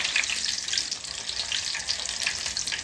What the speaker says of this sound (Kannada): ಜಜ್ಜಿದ್ದು ಬೆಳ್ಳುಳ್ಳಿ ಹಾಕ್ತಾಯಿದ್ದೀನಿ ನಾನು ಅಷ್ಟೇ ನೀಟಾಗಿ ಎಣ್ಣೆಗೆ ಫ್ರೈ ಮಾಡ್ಕೊಳ್ಳೋಣ